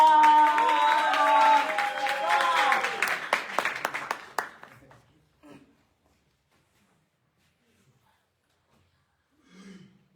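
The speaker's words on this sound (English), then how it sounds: "A round of applause for Spamanda Jaba" Audience at a live poetry slam cheering and clapping, with whoops and voices at first, then the applause tapers off into near silence, followed by a faint murmur near the end.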